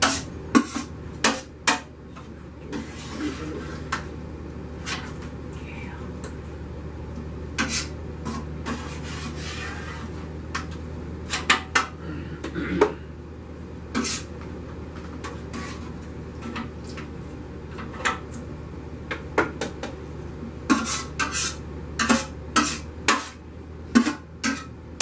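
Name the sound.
big spoon stirring homemade apple butter in a pot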